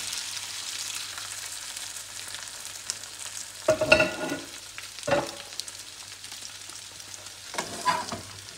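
A grated potato pancake stuffed with vegetables and meat fries in a pan, a faint steady sizzle broken by a few louder scrapes and taps as it is moved around.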